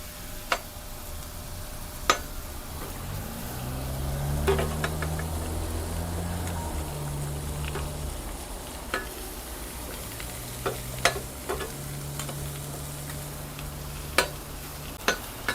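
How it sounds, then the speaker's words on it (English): Mushrooms sauté on an outdoor Vevor griddle with a continuous sizzle, punctuated by sharp spatula clicks and scrapes scattered throughout, with a low hum running beneath parts of the stretch. "we're just looking to saute these. It'll soften them up a little bit."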